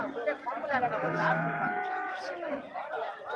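A white-faced cow moos at a busy cattle market in Chintamani, a long drawn-out low call held for a couple of seconds and fairly close, with faint crowd chatter behind it.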